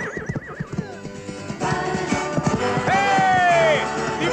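A horse whinnies loudly in a film scene, a rising and falling neigh over hoofbeats clip-clopping and galloping nearby, with a brief voice briefly mixed in.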